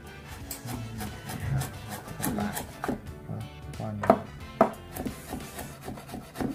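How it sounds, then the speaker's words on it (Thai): Knife chopping mushrooms on a cutting board while preparing beef lasagna, a run of irregular close thuds and scrapes with two sharper knocks near the end, steady kitchen background throughout. "เนี่ยมัชรูมก็ตัดตามใจชอบเลยนะครับ"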